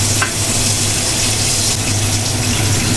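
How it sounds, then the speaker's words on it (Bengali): A little gravy water goes into a fish curry whose sauce has cooked down dry. The hot pan answers with a loud, steady, close hiss and gush throughout, with no voices. "এখন আমি একটু অল্প করে ঝোল দিয়ে দেবো"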